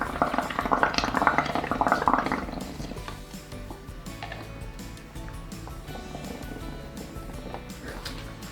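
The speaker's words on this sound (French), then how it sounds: "faut insister. Faire des bulles." Bubbles blown through paint for a painting craft, a soft burbling gurgle that is strongest over the first two seconds and then settles into a quieter, steady liquid bubbling over a low background hum.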